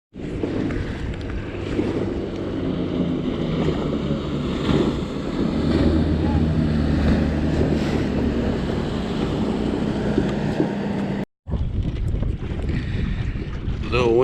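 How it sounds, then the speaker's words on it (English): Wind gusting over a lake during spider-rig fishing from a boat, heavy buffeting rumble on the microphone with whooshing gusts and some water noise, continuous with a brief cut near the end. "Wind's picked up."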